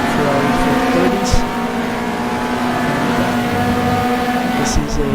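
A Ferrari 458 and Ferrari 430 GT3 race cars in a racing video game at Jarama, engines droning steadily at high revs beneath an excited commentator's voice.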